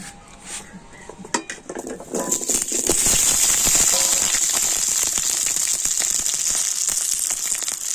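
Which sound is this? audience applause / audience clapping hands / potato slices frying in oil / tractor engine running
potato slices frying in oil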